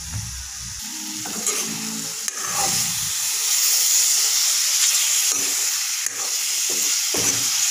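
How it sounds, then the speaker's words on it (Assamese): Pineapple pickle with spices fries on a low flame, giving a steady, broad sizzle and hiss that lasts throughout, with a few soft stirring scrapes near the start. "মছলাটো যাতে আনাৰসৰ মাজত সোমাই যাওক তাৰ কাৰণে অলপ ল' ফ্লেমত ভাজি থাকিম"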